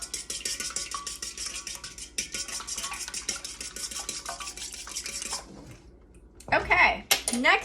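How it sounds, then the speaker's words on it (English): Two eggs whisked with a fork in a bowl while making keto stuffed meatloaf, a rapid steady metallic clicking close by for several seconds, then clinking and handling noises as it stops. "Let me get a fork and we will get that whisked up."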